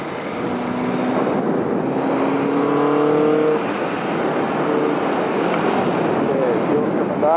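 A Yamaha XJ 750 Seca motorcycle engine with four carburetors catches again after running out of fuel, sputtering and revving unevenly up close, with a rough, wavering drone throughout.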